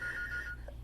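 A telephone rings faintly in a home, a short tonal trill heard once at low level.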